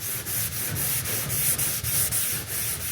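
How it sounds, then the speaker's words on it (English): Rhythmic back-and-forth strokes of 220-grit sandpaper rasp against a wooden rowboat, close and steady, about four strokes per second. "sanded it down with 220 grit sandpaper"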